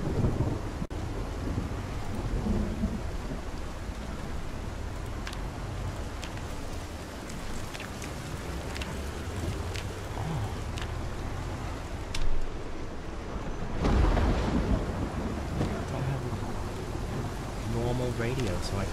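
Steady heavy rain hisses throughout a thunderstorm in the zombie survival video game Project Zomboid, with a low rumble of thunder swelling briefly near the end, the storm constant and enveloping.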